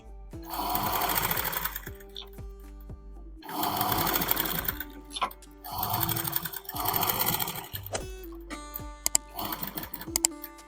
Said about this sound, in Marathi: इथं हा जो फ्रंट पार्ट आहे ब्लाऊजचा तो मी स्टिच करून घेते, त्याचा नेक तयार करते